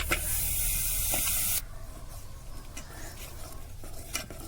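Jaggery dropped into a hot pan, a loud steady spray-like hiss for the first second and a half that cuts off abruptly, followed by quieter bubbling and clinks.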